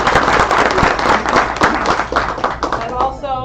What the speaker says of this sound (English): We'll clap for him now